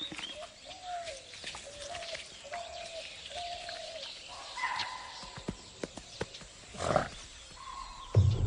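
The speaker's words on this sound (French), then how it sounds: "Soudain, un cri d'alerte les perturbe." Animal alarm call in the wild Bengal tiger habitat, repeated short tonal cries at a steady rhythm, with a louder sharp call near the end over faint outdoor ambience.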